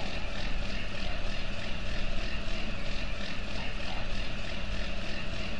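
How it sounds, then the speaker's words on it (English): A tractor engine in the farming video game Farming Simulator 19, shown with a Kverneland plow, drones loudly and continuously with a steady pulsing rumble throughout, with no talk over it. "Tractor's really loud."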